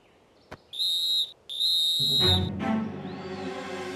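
Two sharp, high whistle blasts in quick succession in a Super Wings cartoon, followed by a longer, lower-pitched sustained tone that fades out.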